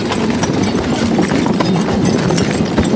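Draft horses walk at a brisk pace on a winter logging trail, their hooves clip-clopping in a steady, continuous rhythm close by.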